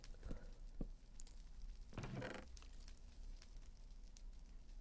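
Fire burning in the Minecraft video game, faint and intermittent: a few soft crackling pops early on, then a brief hissing flare around the two-second mark before quieter scattered crackles.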